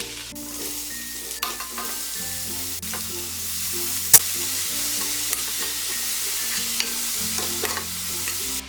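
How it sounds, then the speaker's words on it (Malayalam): Chopped onion, capsicum and carrot sautéing in a hot pan over medium flame, with a steady sizzle and repeated scrapes of a stirring spoon throughout, close and fairly loud, no talking. "ഇതിലേക്കിനി അരിഞ്ഞു വെച്ചിരിക്കുന്ന സവാളയും ക്യാപ്സിക്കവും ക്യാരറ്റും കൂടിയിട്ട് വഴറ്റി കൊടുക്കാം"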